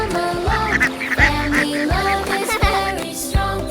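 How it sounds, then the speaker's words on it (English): Farm ducks quacking repeatedly in loud, close, rhythmic bursts, several calls overlapping in quick succession with no talk. "Look at our duck friends. They love walking together."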